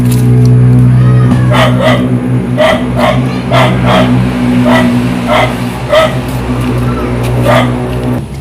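Several dogs yip and bark in a steady, repeated rhythm over a loud, constant engine hum, with the barks coming roughly every half second to second at a moderate distance.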